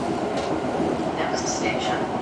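A passenger train pulls out of Antoniów station in Poland, its steady rumble and rattle of wheels on rails running throughout, with faint brief squeals and a voice in the background.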